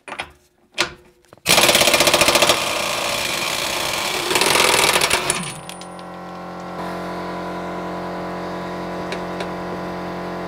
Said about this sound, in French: je dévisse l'écrou de cardan, enfin c'est plutôt écrou de fusée